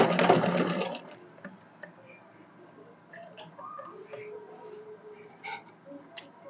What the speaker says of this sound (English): I'm going to sew it down now on 1/2 inch.